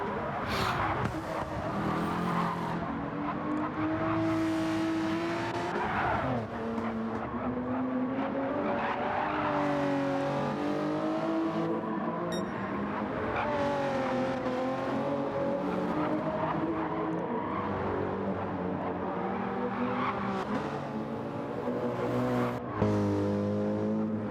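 Porsche 911 race cars run on a track in a racing video game, with continuous engine whine shifting pitch through gear changes and corners. Several cars overlap at a steady, moderate level with no talk.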